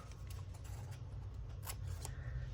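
Scissors cutting paper for a journal, several quiet crisp snips close by, scattered irregularly over a soft background hum.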